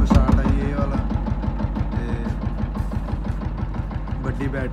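An HMT 5911 tractor engine starts on its self-starter and settles into an even, rapid knocking idle, close and loud, while someone talks over it.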